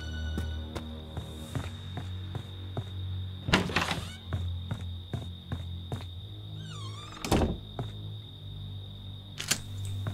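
In the Friday the 13th video game, doors are shut amid a series of dull wooden thunks and clicks, with two heavier, sharper slams standing out over a steady low game hum.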